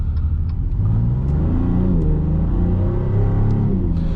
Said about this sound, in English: And the exhaust, the sport exhaust, always sounds good in this car.